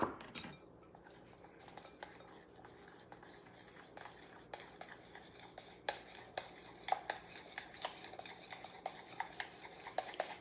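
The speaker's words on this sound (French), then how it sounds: "Je continue à brasser." A spoon stirs protein powder pudding in a bowl with quiet, repeated scraping and clinking against the dish, soft and close, with sharper taps toward the end and no talking.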